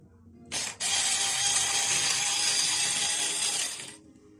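A home coffee grinder hums as its fineness setting is turned by hand, a steady whirring grind that starts abruptly, briefly dips, then holds for about three seconds before cutting off, close and fairly loud.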